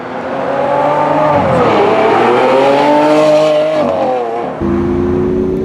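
A loud, close Lamborghini Aventador SV engine revs hard, pitch climbing and falling through several surges before settling into a steady high drone.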